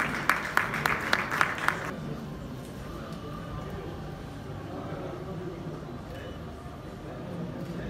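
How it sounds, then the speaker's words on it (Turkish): Audience applause at a media awards ceremony, beginning as a few sharp, rhythmic claps in quick succession for about two seconds, then giving way to a low, steady murmur of the hall. "Sabah gazetesi sosyal medya direktörü Selman Öztürk'ü alkışlarınızla sahneye davet ediyorum."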